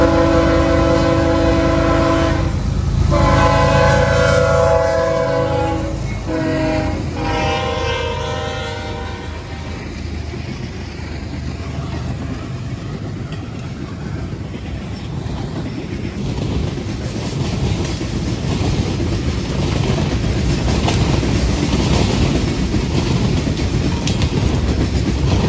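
A dusty coal train in Princeton, Indiana, roars past close by, its horn blaring in long blasts at the start before giving way to a sustained heavy rumble and clatter of rail cars.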